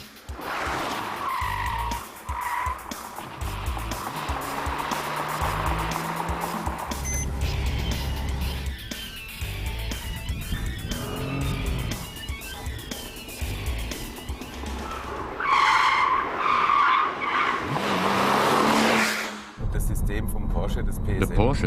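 A Porsche Cayman S drifting on a track, its tires skidding and squealing in long drawn-out stretches with engine noise, while someone narrates over it.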